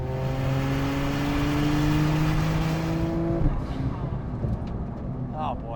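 A Porsche 911 engine revs loudly in a sustained, rising drone for several seconds, then drops off into crackling backfire pops and burbles as the throttle closes.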